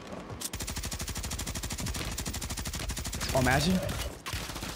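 Rapid, sustained LMG machine-gun fire from Call of Duty Warzone on Rebirth Island, a loud, steady stream of shots running almost the whole clip, with a brief spoken exclamation over it and a few interface blips near the end.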